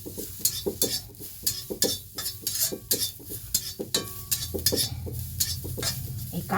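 Chopped green chillies and onion stir-fried in a little oil in a pan, with rapid close scraping strokes of a spatula and a soft sizzle underneath, with no voices.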